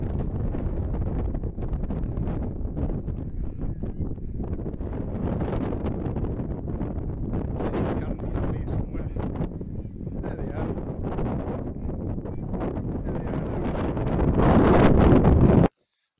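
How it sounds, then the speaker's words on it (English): Strong wind buffets the microphone beside a castle on a Northumberland camping trip, a steady loud rumbling roar that holds throughout and surges louder near the end before cutting off. "You can hear me with this wind."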